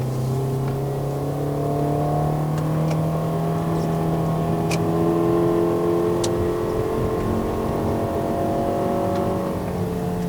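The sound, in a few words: Toyota Estima 2.4L engine revving uphill in first gear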